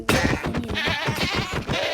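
Goat bleats from the Minecraft video game, a run of short wavering calls repeating across two seconds, loud and close with no talk over them.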